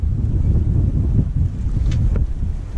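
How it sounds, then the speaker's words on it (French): Steady 16-knot wind buffets a sailboat riding at anchor off Île de Ré, a constant loud low rumble of gusts with faint water movement underneath. "il y a 16 nœuds de vent"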